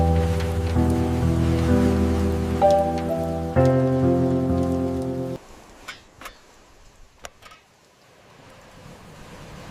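Rain falls outside a van by the sea. A sustained tonal drone plays over it at first, then cuts off, leaving a quieter patter of scattered drops.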